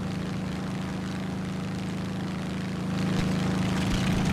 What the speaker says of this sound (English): my plane doesn't sound very good